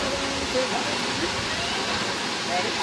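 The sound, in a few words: waterfall on the Big Island of Hawaii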